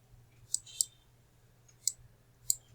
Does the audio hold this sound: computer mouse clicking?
yes